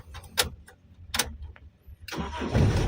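Starter motor cranks in short bursts on a Toyota Kijang LGX EFI with a fuel pump relay and electrical problem, then the engine catches and settles into a steady, close idle.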